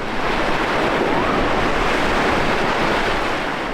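Ocean surf rolls in at Bean Point Beach on Anna Maria Island, a loud, continuous broadband wash of breaking waves with wind buffeting the microphone and no talk.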